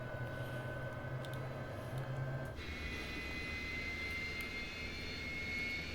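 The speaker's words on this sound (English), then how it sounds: "Yep, engines are starting to ignite." F-86 Sabre jet engine starting up in Microsoft Flight Simulator 2024, a steady whining turbine hum that shifts upward in pitch partway through as ignition catches, sustained and moderately quiet with no talking.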